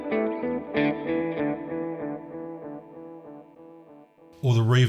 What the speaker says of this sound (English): You get the option of running the delay into the reverb.